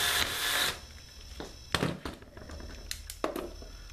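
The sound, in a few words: power drill driving eye bolts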